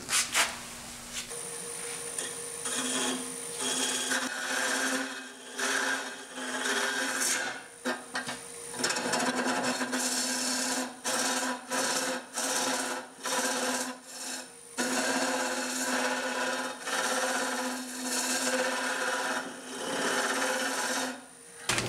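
A swan neck hollowing tool cuts into wood during hollowing, giving a long, steady rasping scrape close up, broken by short pauses as strokes restart, with no voice.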